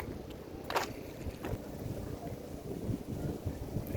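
A boat on the open sea with low engine rumble and wind buffeting the microphone, a couple of brief splashes or knocks.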